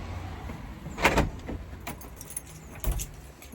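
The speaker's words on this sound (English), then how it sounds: "lock the door first." Keys jangle with brief metallic clinks and rattles while a door is locked, near and fairly quiet, with a few scattered handling knocks.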